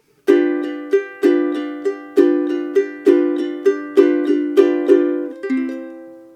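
A ukulele plays split strokes starting on beat 2, about a dozen crisp, bright strums in a lilting, regular rhythm. Each chord rings briefly before the next stroke, played solo and close.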